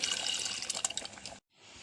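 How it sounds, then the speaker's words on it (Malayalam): Tamarind water is poured into sambar as a close, fairly quiet splashing pour that stops abruptly, then a faint trickle follows. "പുളി വെള്ളം ഒഴിക്കണം"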